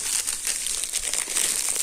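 A plastic bag holding a burger crinkles up close in short, busy bursts of rustling for about two seconds, with no voices.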